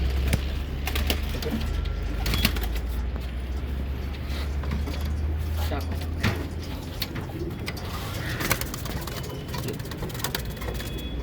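Many pigeons in a fancier's loft coo as a dense, continuous murmur, with scattered clicks and rustles and a low mechanical hum underneath.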